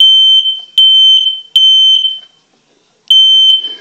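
A smoke alarm under weekly test sounds loud, piercing, high electronic beeps in a rapid repeating pattern, then a brief silence before the shrill beeping starts again.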